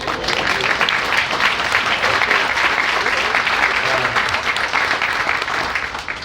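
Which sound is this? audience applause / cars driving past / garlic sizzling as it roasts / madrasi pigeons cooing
audience applause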